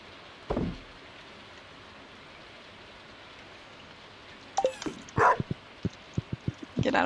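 Dog barking in the farming game Stardew Valley: a lone bark early, then a quick run of sharp, loud barks in an uneven rhythm over a steady hiss of rain.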